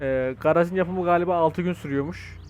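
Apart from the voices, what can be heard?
No everyday noises stand out.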